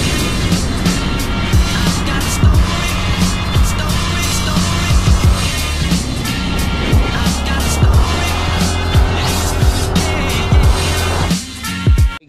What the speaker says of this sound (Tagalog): So ito yung gamit nating motor, Yamaha Fascio.